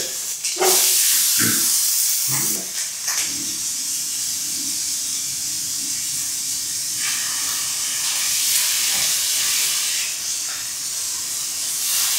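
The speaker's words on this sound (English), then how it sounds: "Sure, let's throw some peppers on that one. Okay, yeah, let's saute them together." Peppers sauté in a hot pan at brunch with a loud steady hiss and sizzle that continues throughout, after a few clattering knocks near the start.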